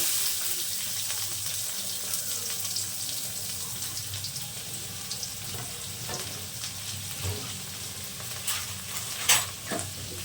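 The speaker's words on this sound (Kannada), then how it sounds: "ಎಣ್ಣೆ ಕಾದ್ಮೇಲೆ ಇಲ್ಲಿ ಈರುಳ್ಳಿ ಮೆಣಸಿನ್ಕಾಯಿ ಕರಿಬೇವು ಇದೆಯಲ್ಲ ಇದನ್ನು ಹಾಕ್ಕೊಳ್ತೀನಿ" Onion, green chilli and curry leaves frying in hot oil for roadside-style egg rice, a steady close sizzle running throughout with occasional stirring clinks and a few sharper pops near the end, no talking.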